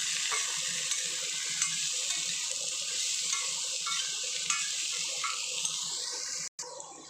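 Boiled elephant foot yam frying in a pan with sautéed onions and curry leaves: a steady, close sizzle with occasional scrapes of stirring running throughout.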